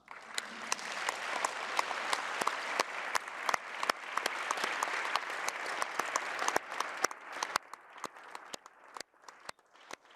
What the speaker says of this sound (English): may I please first ask to show our gratefulness for being with us today by giving you a grand applause